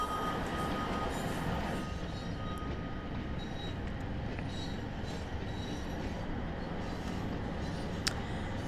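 A Class 150 diesel train engine at step 1 throttle in a train simulator game gives a low, steady rumble with a faint whine, quiet and continuous, with a few soft clicks.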